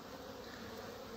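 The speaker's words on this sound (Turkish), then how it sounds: "Bu arılar hala inilti yapıyor." A queenless honeybee colony hums at the hive entrance, a steady, continuous drone of many bees filling the whole moment at low, even loudness with no voices.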